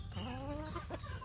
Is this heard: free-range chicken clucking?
yes